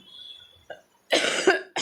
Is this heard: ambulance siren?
no